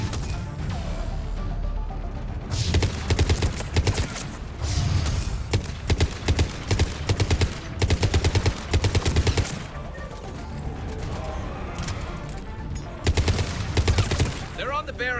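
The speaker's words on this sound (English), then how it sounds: "Mounted turret." Mounted turret gunfire in Mass Effect 3 rattles in repeated rapid bursts, loud and close, separated by short pauses filled with lower battle noise and mechanical clatter.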